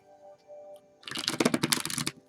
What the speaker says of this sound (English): just shuffle the cards a couple times before we begin to pull cards